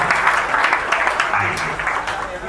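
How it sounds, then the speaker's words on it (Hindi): An audience claps steadily in a dense wash of applause to welcome the guru at a gathering, with a voice speaking faintly under it. "सभी ताली बजाएंगे, गुरुदेव का स्वागत करेंगे।"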